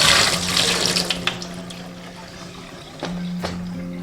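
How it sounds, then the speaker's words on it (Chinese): Dried shiitake mushrooms, dried shrimp, dried scallops and a little dried squid being rinsed in a bowl of clean water, a steady close splashing and sloshing with louder swirls near the start and end. "加入清水淘洗干净"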